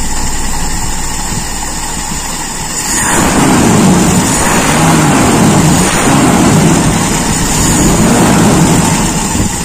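Carbureted Toyota Kijang Super engine revving up from a steady idle, the sound swelling into a louder, rougher roar after a few seconds and holding there with wavering pitch, close and continuous with no talk.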